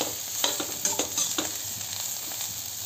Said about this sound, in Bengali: কালো জিরে শুকনো লঙ্কা ফোড়ন দিয়ে এরকম ভাজা ভাজা